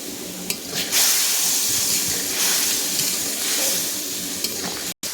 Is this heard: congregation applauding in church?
no